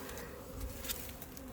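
Bees from a nucleus hive buzz steadily and close by, a dense, continuous drone of many insects with no pauses.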